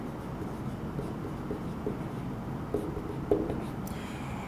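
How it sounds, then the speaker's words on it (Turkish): Marker or chalk writing on a classroom board in steady, quiet strokes with faint scratches and a couple of small taps, fairly close in a hushed room with no talk. "Buraya yazıyorum."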